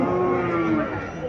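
A native cow at the Chandimura cattle market in Cumilla gives a long, loud, close moo, one sustained low droning call that tapers off at the end.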